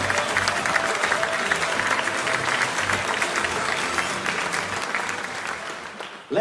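Sustained audience applause fills a hall at a children's awards ceremony on the Isle of Wight, dense and steady for about six seconds before dropping away suddenly at the end.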